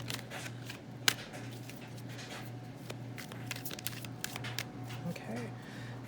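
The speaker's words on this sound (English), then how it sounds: "let's give a quick shuffle and get just 2 more cards for you" Tarot cards being shuffled, giving quick, close riffling and soft papery slaps in irregular bursts, with a low steady hum in the background and a person talking over it.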